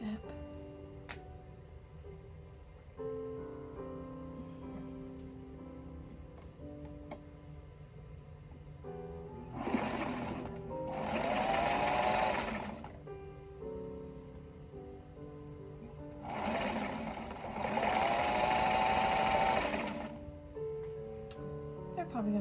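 A sewing machine stitches quilt blocks in two sustained runs, each a few seconds long, with a whirring motor whine rising over steady background music.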